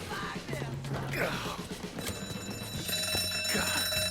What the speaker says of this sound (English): You triggered the fucking alarm?